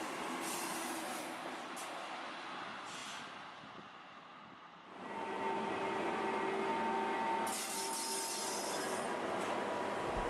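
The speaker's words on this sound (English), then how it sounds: "The green train pulls into the station high up on the mountain." Green Flåm Railway train pulling into a mountain station high up, rumbling and rolling along the rails, easing quieter midway before swelling louder again with squealing wheels and hissing air brakes.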